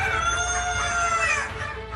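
Kadaknath chickens at a farm science centre in Jhabua, a rooster crowing with clucking, loud and close, continuous over a couple of seconds with no talk.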